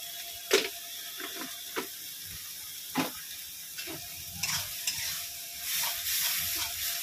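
Pointed gourd peel paste is sautéed with turmeric and spices, with a spatula scraping and clicking against the pan in irregular strokes over a faint, low sizzle.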